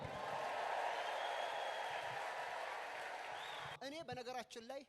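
A church congregation ululates in praise during a sermon, a sustained high trilling and cheering crowd swell that holds steady before a voice cuts in over it at the end.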